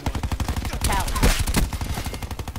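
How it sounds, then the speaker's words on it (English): Rapid automatic gunfire from a Call of Duty: Black Ops 4 match, loud and close, with bursts of repeated shots over about two and a half seconds and a sharper blast near the middle. "I stopped shooting after I killed the first one."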